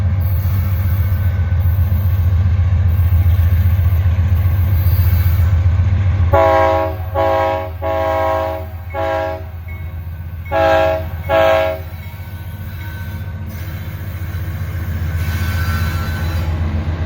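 A southbound manifest freight train rumbling past close by, steady heavy rolling noise joined midway by a series of loud horn blasts in short and long bursts, with no talking.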